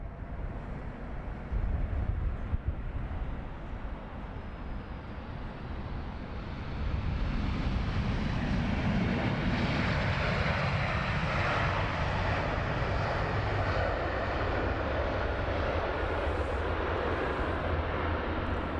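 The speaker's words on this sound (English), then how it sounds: "Another Queen of the Sky is arriving." A Boeing 747 airliner arrives at London Heathrow, its engine roar a broad steady rumble that swells louder midway and holds, with some wind noise on the microphone and no talk.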